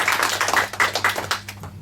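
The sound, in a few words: audience applause on a quiz show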